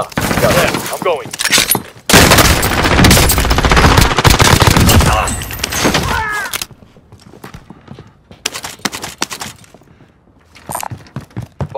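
Automatic gunfire crackles loudly in Call of Duty Warzone, played on PlayStation 4 in a quads match, with dense bursts through the first six seconds, then sparser scattered shots while players talk.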